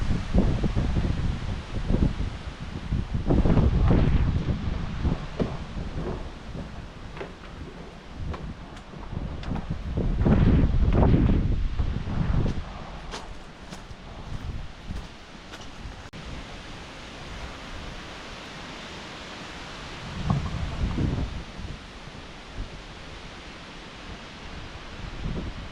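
Strong wind gusts roar through trees in the Kootenays, leaves rustling hard, swelling loudly in surges around a few seconds in and again near ten seconds, easing off, then rising once more toward the end with no voices.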